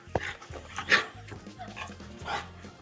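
A shelter dog barks and yips in a few short bursts, close and fairly loud, with a whimpering edge between barks.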